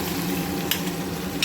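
Boiled bitter gourd, cooked with salt, turmeric and buttermilk, fries in hot tempering oil with a close, steady sizzle and crackle. A couple of sharp spits pop out and no one speaks.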